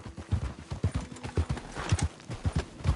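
A horse gallops in Red Dead Redemption 2, its hooves beating a steady, rapid clip-clop rhythm close by over a low rumble of movement.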